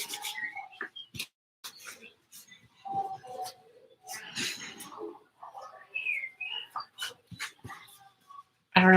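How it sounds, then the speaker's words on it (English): A very vocal baby in a cafe babbles and squeals in short, scattered bursts at moderate distance, with quiet gaps between the sounds and a sharp clatter near the end. "I don't know if you can hear the baby in the background. That's the cafe owner's baby."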